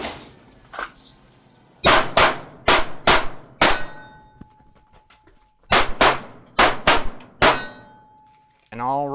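A Springfield Hellcat Pro Comp pistol fires Norma Safeguard 115 grain ammunition at an outdoor range, two quick strings of loud, sharp gunshots with ringing steel-target clangs and short pauses between them.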